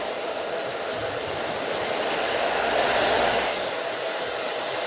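Hair dryer at medium heat blow drying a handlebar mustache, a steady loud whooshing roar close by that swells slightly midway, with no talking.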